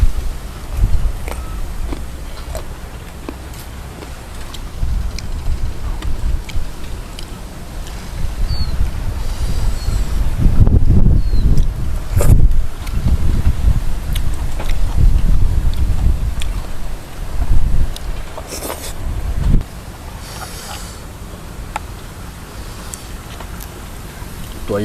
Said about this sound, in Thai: มีเสียงลมครับ